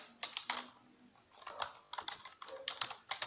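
Fingers type HTML on a computer keyboard in quick, close clicking bursts, with short irregular pauses between keystroke runs.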